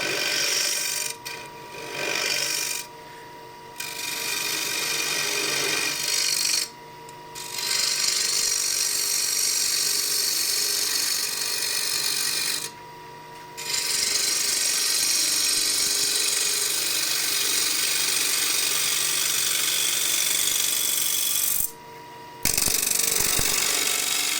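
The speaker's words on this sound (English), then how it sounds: "Let's go with the second one. Again, spindle gouge." Wood lathe turning a hornbeam bowl with a spindle gouge gives a loud continuous rough cutting drone that drops out briefly several times as the tool lifts away, with no voices.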